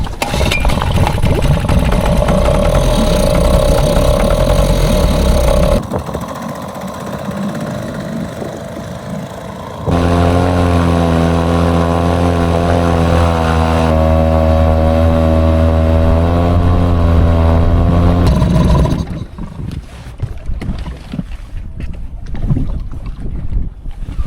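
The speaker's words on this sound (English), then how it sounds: "I'm now going to ride on the dinghy and go into the town of Fowey" Outboard engine of a dinghy running on the water while heading into the harbour town of Fowey, Cornwall, a loud steady drone with strong wind and water rush, the engine note becoming clearly tonal midway before fading out.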